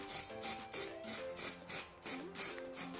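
Spray can of pale rose chalk paint applied in light coats to a hanging planter, a quick rhythmic series of about nine short, soft hissing puffs, close and fairly quiet with faint background music.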